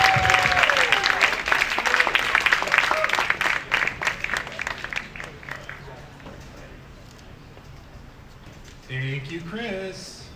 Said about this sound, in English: Please make some noise for Jacob Tell, everybody.